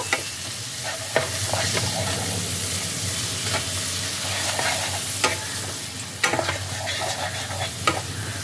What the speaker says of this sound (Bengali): এবার সমস্ত গুঁড়ো মশলাকে একসাথে ভালো করে মিশিয়ে নেব।